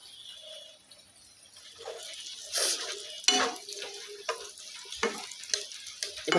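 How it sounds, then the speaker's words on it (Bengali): Chopped onions, whole dried chillies and minced garlic fry in a pan with a soft sizzle that builds as a spatula scrapes and stirs in irregular strokes, close and fairly quiet. "এবার পেঁয়াজগুলোকে একটুখানি ভেজে নিব, একদম ব্রাউন কালার করব না।"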